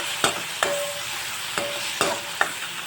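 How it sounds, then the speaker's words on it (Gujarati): A spoon stirs and mixes ingredients with lemon juice and sugar, giving five sharp scraping clicks over a steady bright hiss, close up with no voices. "હવે આપણે બધું જ મિક્સ કરી લઈશું"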